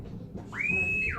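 A Flysky IT4S radio transmitter's low-battery alarm sounds a single high, steady tone that sweeps up, holds briefly, then cuts off.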